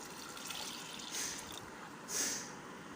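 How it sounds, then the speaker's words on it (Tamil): Water is poured into a pot of chopped vegetables (onion, beans and peas) for a homemade vegetable soup, a steady soft splashing fill with two slightly louder surges, close by and without any talking. "இப்போ தண்ணி ஊற்றிடலாம்."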